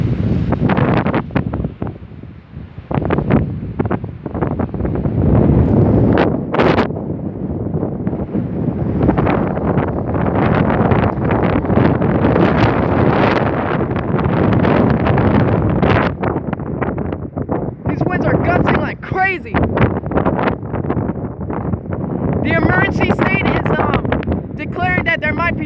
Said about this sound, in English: This is called a squall wind.